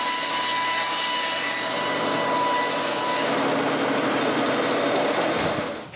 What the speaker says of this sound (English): it's time to cut the other edge parallel with the other side.